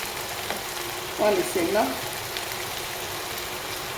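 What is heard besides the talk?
stirring meat pie filling in a pot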